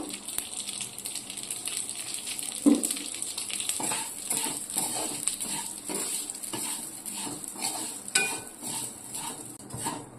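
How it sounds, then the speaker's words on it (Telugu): Dry vermicelli (semiya) being roasted and stirred in a pan, with a steady scraping, rustling stir and light sizzle running throughout, plus an occasional sharp clink of the spoon against the pan; no talking. "ఇప్పుడు అదే దాంట్లో సేమియా వేసుకున్నానండి ఒక కప్పు"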